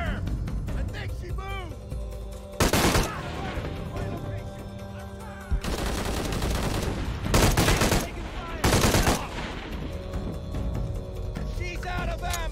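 Gunfire in Shadow of the Tomb Raider, several loud separate bursts and sustained volleys spread across the stretch, with character voices talking between the shots.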